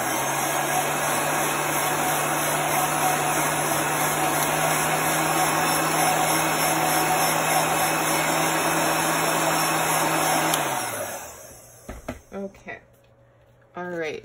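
A handheld dryer blows steadily and loudly over chalk paste on a Chalk Couture bee sign, a constant whirring drone that stops abruptly near the end, leaving a few light handling knocks.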